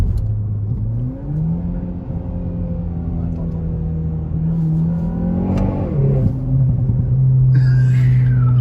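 A Renault Megane 4 GT with its silencer removed revs hard, the engine note rising and falling through throttle blips with a deep rumble and pops, loud and close, with brief talk in the background.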